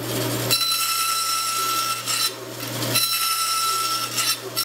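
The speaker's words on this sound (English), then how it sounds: "Should be able to go and cut this on the bandsaw." A bandsaw cuts through a wooden bulkhead frame for a small wooden boat, a steady loud whine with a low motor hum, rising and falling as the blade works through the wood in two passes.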